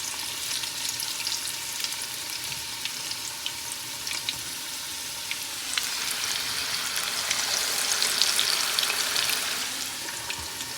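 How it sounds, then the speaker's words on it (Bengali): Continuous bright sizzling of battered agathi flowers frying in hot oil in an iron wok, swelling louder for a few seconds midway before settling back, with no voices. "আর যে কড়াইয়ে আমি বকফুল ভাজছি এটা কিন্তু আমাদের লোহার কড়াই"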